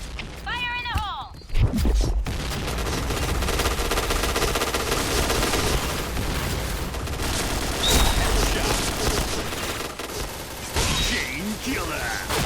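Rapid bursts of fire from an AUG A3 airsoft rifle crackle through most of the clip, with excited voices shouting over the steady mechanical rattle.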